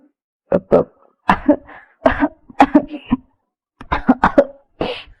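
A series of sharp, harsh coughs in several bursts, close and fairly loud, with brief pauses between fits and a final hoarse hack.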